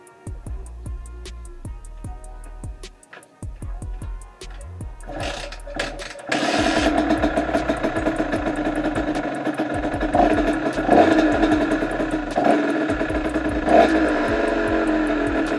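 A repaired engine with a cylinder air leak sputters through a few cranking attempts, then catches and settles into a steady, close running idle that continues to the end.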